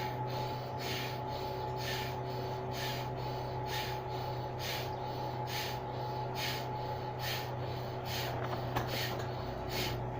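Forceful Bhastrika pranayama breathing at a medium pace, a steady train of sharp rhythmic breath bursts, roughly two per second, sounding close over a constant background hum.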